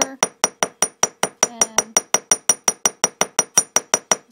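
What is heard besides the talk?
hammer tapping wire to make divot marks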